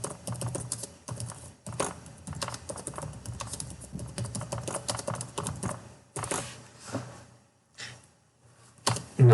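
Bursts of rapid keystrokes on a computer keyboard as a name is typed in, separated by short pauses, close and clear with no talk.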